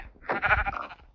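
A sheep in a video game gives one drawn-out, wavering bleat lasting about a second, clear and close, with no voices over it.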